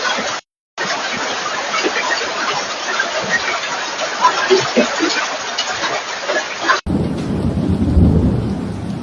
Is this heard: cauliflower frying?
no